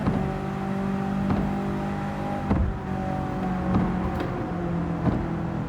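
A Toyota Corolla Levin engine in Gran Turismo 7 on the Tokyo Expressway drones continuously and loudly, with brief regular bumps in the roar as it revs, no voices present.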